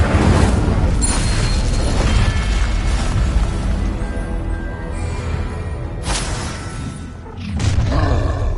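Incendio fire spell cast in Hogwarts Legacy, a video game: a loud roaring, whooshing flame burst with booming impacts, sustained and close, easing off before another surge near the end.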